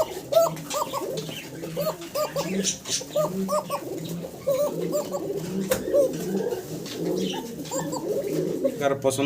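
Several pigeons coo over and over in a steady, overlapping chorus, with soft chirps and a few sharp knocks, one loud near the end, close and continuous throughout.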